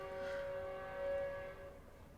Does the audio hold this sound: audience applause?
no